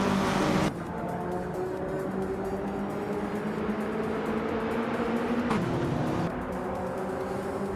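Vintage street-class race cars, a 1982 Lancia 037 Stradale among them, roar along a racing game track, engines droning steadily with gear changes shifting the pitch, loud and close with no talk over them.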